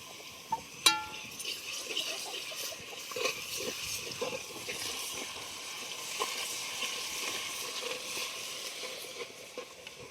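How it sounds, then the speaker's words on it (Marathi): Asafoetida and garlic paste fry in hot oil for a crab curry, giving a steady crackling sizzle that carries on throughout, with a sharp clink near the start. "एक चिमुटभर हिंग टाकून घेते लसणाची बारीक पेस्ट केलेली ती टाकून घेते"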